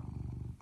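A small young cat purrs close up with a steady, rumbling rhythm, continuous and fairly loud throughout, with no talking.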